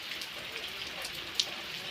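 Soft, steady rain patters continuously as a faint hiss, with a couple of sharper drops tapping nearby.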